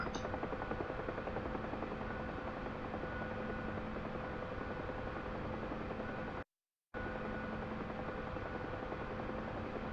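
Steady, dense rotor and turbine drone of a Huey gunship helicopter in a video game, loud and continuous for ten seconds apart from a brief total dropout near the middle.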